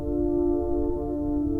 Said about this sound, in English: So all the pianos playing together sounds like this.